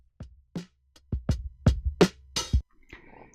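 A drum sample triggered in the Koala Sampler app plays a sparse beat of separate hits, kick-like thumps and sharper snare or hat strikes, clean and close with short decays, no voices.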